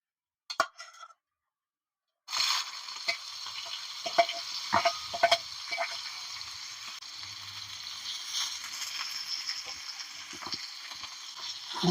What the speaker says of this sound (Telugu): ఇప్పుడు నూనె వేడైంది, ఇగో చెమ్మకాయ వేసుకుందాము